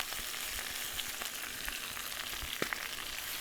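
Chinese broccoli frying in a hot pan, a steady bright sizzle with small crackles and pops, close and continuous with no talk.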